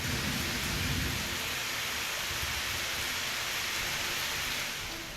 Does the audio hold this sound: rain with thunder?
yes